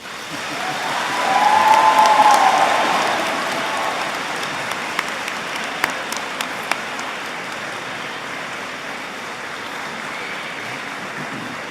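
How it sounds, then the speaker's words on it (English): Graduates and guests at a graduation ceremony give a warm round of applause that swells with a brief cheer early on, then settles into steady, sustained clapping across the hall. "giving them a warm round of applause"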